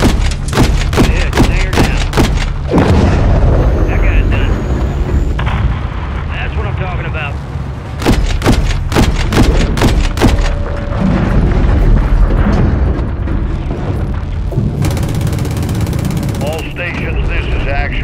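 Missile strikes and heavy blasts in the Call of Duty Modern Warfare III campaign, a dense run of booming impacts and rapid cracks, loud and close over continuous rumble, with voices talking through the barrage.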